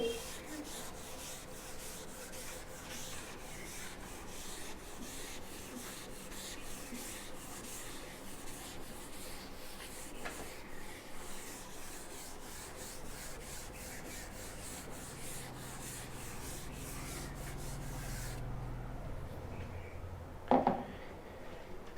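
Writing being rubbed off a board with steady, faint scrubbing strokes that continue for most of the time, then fade out, with a brief knock near the end.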